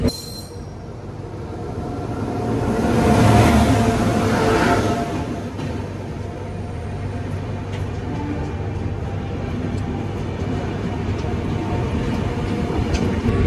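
Bishwa Bharati Fast Passenger train pulling into a station from the Howrah direction, a broad rumbling roar that swells near the start and then settles into a steady rolling drone of wheels and carriages.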